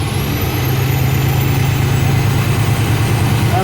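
A truck engine runs steadily at raised revs, about 1200 RPM, for an air brake cutout test, a loud, even low drone that holds without a break and has no talk over it.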